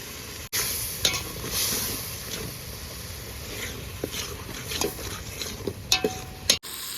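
Tomato and green chili gravy cooking in a pan gives a soft continuous sizzle with stirring scrapes and a few sharp utensil knocks near the end, no voices.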